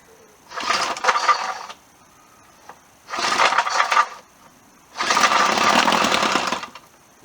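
Vintage Evinrude 4hp outboard engine with the choke on being cranked in three bursts of rough, sputtering mechanical noise, each roughly a second or two long, with the last attempt running longest, separated by short quiet gaps.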